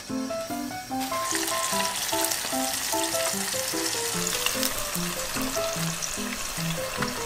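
Fish karaage deep-fries in reused oil with a loud, dense, crackling sizzle. A tonal melody plays continuously over it, and no one talks.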